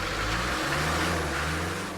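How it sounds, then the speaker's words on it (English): A scrapheap-built car's engine revs in a junkyard engineering contest, a loud sustained droning roar with a steady pitch, heard alone without talk. "There's nothing worse than hearing a revving engine from your neighbours."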